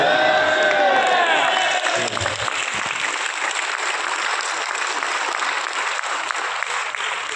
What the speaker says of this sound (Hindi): मैंने अपने लिए तालियां नहीं बजवाई है, फिर क्यों बजवाई है बताओ?